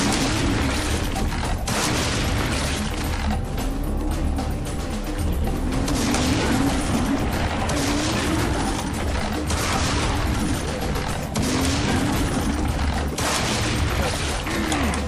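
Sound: shotgun fire in the video game Serious Sam 3

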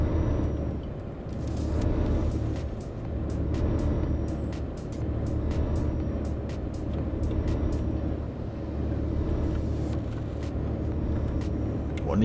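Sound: road traffic in video game Euro Truck Simulator 2

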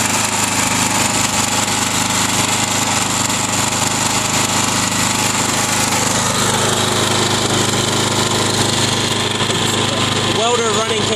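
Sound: generator engine running

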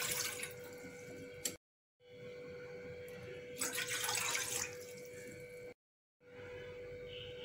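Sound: water being poured into a cooking pot

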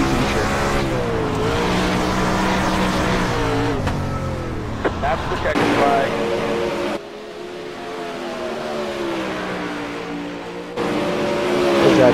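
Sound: 360 sprint cars racing at Eldora Speedway

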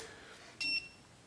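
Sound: Klein NCVT-3P non-contact voltage tester beeping

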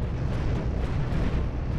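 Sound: big ship cannon firing in video game Cosmoteer

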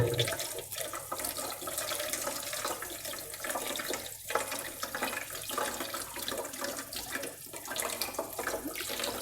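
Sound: water running from a tap for washing seeds

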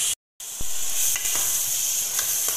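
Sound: carrot halwa being roasted and stirred in a pan

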